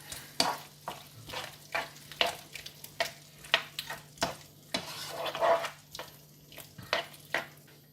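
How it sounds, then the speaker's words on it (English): A creamy chicken stew with homemade sauce is stirred in a pan, with quiet, rhythmic spoon scrapes and clicks over a soft sizzle and no voices. "And give that all a good mix."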